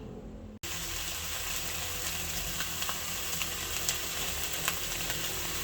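Pork sizzles and fries steadily in a hot pan with garlic and onion, a dense continuous hiss with small crackles and occasional stirring clicks, starting abruptly after a brief silence.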